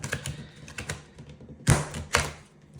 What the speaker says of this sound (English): I'm going to shuffle the deck here